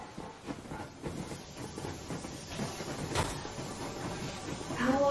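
A train rolls steadily through Metro Exodus, the Aurora steam locomotive Yermak pushing on at full steam, with a continuous rumbling clatter and hiss of moderate loudness and a brief swell midway.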